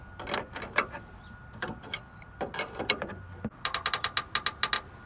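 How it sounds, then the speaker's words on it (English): Wrench tightening bolts on a Teraflex CB antenna mount for a Jeep JK Unlimited tire carrier, heard as close metallic clicks and grinding ratchet-like ticks, irregular at first and then a quick even series of sharp clicks. "You kind of hear those bolts just grinding up"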